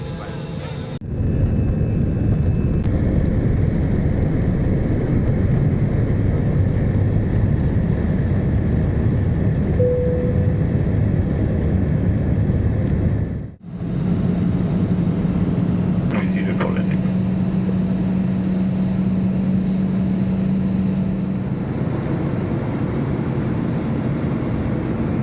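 Inside an Air Asia airliner landing at Kuala Lumpur International Airport, a loud, steady cabin roar runs throughout, broken by one brief dip midway, with faint voices in the background.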